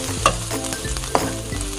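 Garlic and onions sautéing in a pan for a Korean stir-fried fish cake, with a steady close sizzle and two sharp clanks of a utensil stirring against the pan.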